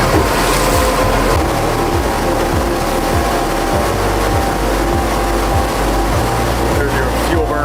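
Pursuit S358 motorboat with a sharp bow entry and reverse chine running at speed across open water, a loud steady engine drone with hull slapping and wind rush, continuous throughout.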